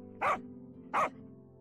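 A small fluffy dog gives two short, sharp barks about two-thirds of a second apart, close and clear over a low steady hum.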